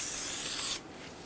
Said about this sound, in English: Using parts cleaner and a clean rag, we're going to spray the rotor and then wipe it off.